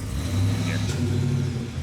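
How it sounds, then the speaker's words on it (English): A Local Motors car engine runs close by with a low, steady rumble and a slight rev rise, short and fairly quiet. "I just want to start your car."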